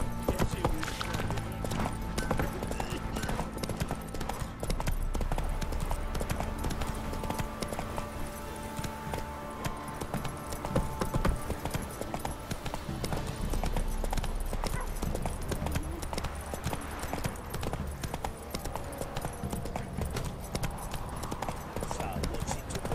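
A horse's hooves pound in a fast, steady gallop in the video game The Witcher 3: Wild Hunt, loud and close, with voices talking and shouting over the running.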